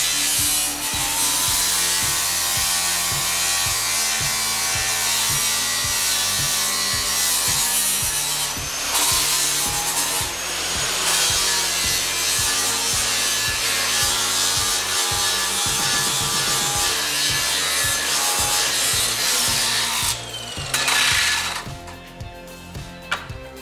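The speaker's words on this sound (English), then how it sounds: "We're gonna grind those edges off too." Angle grinder working the edges of a hot steel part for a DIY power rack, a loud, steady abrasive whine that runs almost without a break, then dips and cuts off near the end.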